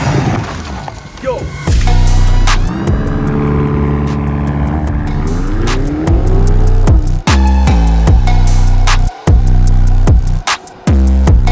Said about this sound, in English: we will drive this all-new BMW XM with 650 horsepower